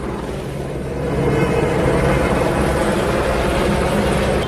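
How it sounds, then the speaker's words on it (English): A loud, continuous police helicopter rumble flying low overhead at night during unrest in Los Angeles, a heavy droning roar that swells slightly and holds steady throughout. "you don't see helicopters that low unless there's a police chase in LA usually"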